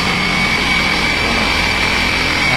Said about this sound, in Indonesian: Coba digas sedikit, kita dengar suaranya.